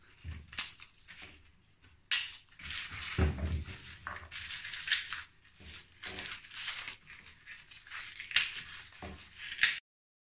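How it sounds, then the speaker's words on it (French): Chili peppers, ginger and garlic being chopped on a board while spices are prepared for pondu, heard as close, irregular knife chops and crunchy cuts in bursts, with a short pause before a quicker run of strokes. "Découper les piments et les gingembre et ail pour les mixer."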